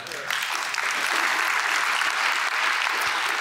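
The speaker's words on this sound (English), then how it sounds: "There's a good applause there." A church congregation applauding, a dense, even wash of clapping held at moderate loudness for a few seconds without talk.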